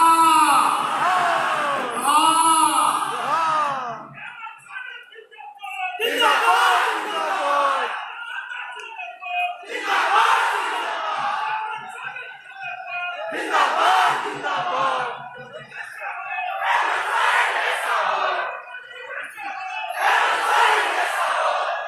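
A large crowd at a Chief Minister's government outreach event in Godda, Mahagama roars with loud, repeated cheering shouts in surging bursts separated by short gaps.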